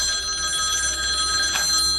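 Telephone ringing in a quiet room, a steady electronic ring with sustained tones continuing over a soft background hum, heard alone without talk.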